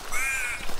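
A lone raven sitting on a car gives a single drawn-out caw, clear and fairly close, ending with a brief thump.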